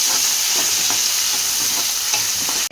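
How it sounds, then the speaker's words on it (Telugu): Ginger garlic paste and mint frying for khichdi, a loud continuous sizzle close by with soft rhythmic stirring strokes beneath it, cutting off abruptly at the end, no voices. "ఇప్పుడు కొంచెం అల్లం ఎల్లిగడ్డ పేస్ట్, ఫ్లేవర్ కోసం కొంచెం పుదీనా కూడా. ఇప్పుడు ఇది కూడా మంచిగా మిక్స్ చేసుకోవాలి."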